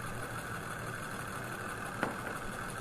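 A 16-cylinder Stirling engine, heated by a butane torch that is low on fuel, runs with a steady low mechanical hum and a continuous torch-like rush. The sound is faint and even, with one brief tick near the end.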